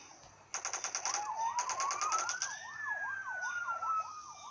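A loud electronic ambulance siren in a Spider-Man video game wails in a rapid up-and-down yelp, with a burst of sharp pulsing tones at the start, steady and close.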